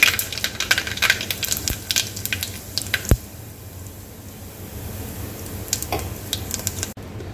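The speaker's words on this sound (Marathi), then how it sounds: "आपली मोहरी तडतडल्यावर आपल्याला याच्यात जिरं टाकून द्यायचं आहे" Mustard seeds crackle in hot oil, a run of sharp, irregular pops and snaps over a faint background hiss, heard close and fairly loud, thinning out toward the end.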